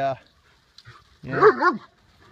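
Short barks from an older dog named Pellet bothered by a playful puppy, Aspen: one brief harmonic burst at the start, then a louder, drawn-out yelping bark after a pause, close by.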